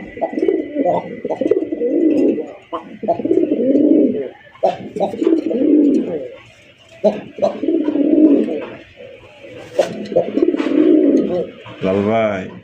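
Raj Golla pigeons cooing in repeated rolling bursts, close and fairly loud, with someone talking at times over the calls.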